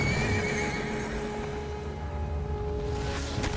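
A horse neighs loudly in the Metal Gear Solid Delta video game, a long whinny near the start, with hoof clops and game background ambience beneath, and no talk.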